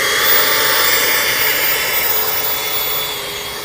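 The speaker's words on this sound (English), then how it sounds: "Maiden flight of the J-10 Dragon from HSD." HSD J-10 Dragon RC jet with a 75mm electric ducted fan on its maiden flight from a wet grass field, giving a loud, steady, high-pitched whine that fades slightly.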